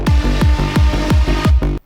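Heavy saw bend bass synth patch built in Phase Plant, hitting in six loud, evenly spaced pulses whose pitch swoops downward on each hit, ending abruptly in near silence.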